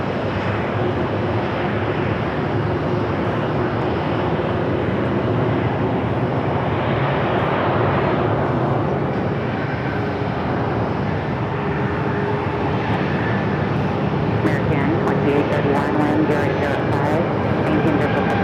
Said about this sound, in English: the Delta A330-300, the flight coming in from Detroit. Next heavy arrival on runway 8.